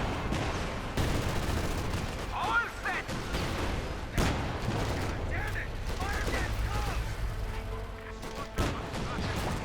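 Company of Heroes 2 match in which a US AA half-track fires its .50-caliber machine guns, with dense gunfire and battle noise running continuously beneath a voice talking over it.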